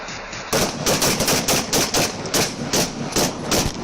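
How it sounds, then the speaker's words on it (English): Police officers and a gunman exchange rapid gunfire, a fast, loud, continuous string of overlapping shots with no pause, captured close by on a doorbell camera. "sparking a terrifying exchange of gunfire"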